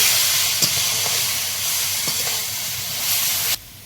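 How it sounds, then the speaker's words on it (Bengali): Ground spices (chili powder, salt, cumin and coriander) sizzle in hot oil while being sautéed for a charcoal-cooked chicken dish, a steady close hiss with faint crackles that cuts off abruptly near the end. "লবণ জিরে গুঁড়ো ধনে গুঁড়ো সব মশলাগুলো এবার মিশিয়ে একটু কষিয়ে"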